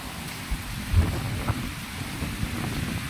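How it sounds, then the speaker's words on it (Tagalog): Steady rain with gusting wind on a stormy coast where the sea is getting rough, a continuous wash of noise with a few low thumps and no voices. "Ulan, lakas ng hangin."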